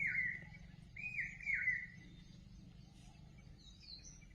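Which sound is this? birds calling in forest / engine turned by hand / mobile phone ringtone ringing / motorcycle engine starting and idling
birds calling in forest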